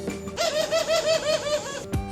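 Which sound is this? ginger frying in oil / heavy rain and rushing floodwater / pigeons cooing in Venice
pigeons cooing in Venice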